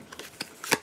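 A deck of cards is shuffled for a board game, quick close riffling bursts in an irregular rhythm ending in a louder final snap.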